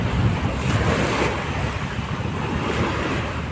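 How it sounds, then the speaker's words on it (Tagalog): Waves wash onto the dolomite beach of Manila Bay in a steady, soft surf, mixed with wind noise on the microphone and no voices. "lagaslas ng alon sa dalampasigan mga bayan, parang humahalik ang alon sa dalampasigan."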